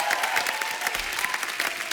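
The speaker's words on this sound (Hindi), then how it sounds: "जोरदार तालियां हो जाएं" Audience applause at a film promotion event with Jr NTR, a steady wash of many hands clapping close and continuous for the whole stretch.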